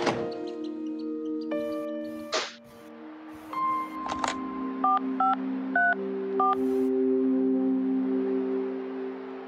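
Touch-tone dialing on a phone in a video game: a series of distinct beeps, some long and some short, after a few clicks and thunks, over a low steady hum.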